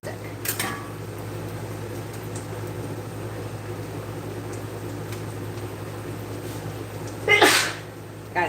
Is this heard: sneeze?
yes